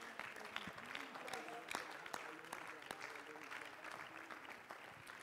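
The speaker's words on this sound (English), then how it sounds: "would you give the Lord a hand clap of praise today?" A church congregation claps hands in praise to the Lord during a Father's Day morning service, a busy ragged patter of many hands spread across the room with a voice talking over it.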